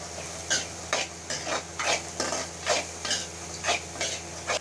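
Chickpeas fry in a pan with turmeric and a pinch of salt, steady sizzle under about ten rhythmic scraping strokes of a spoon stirring them, close and even.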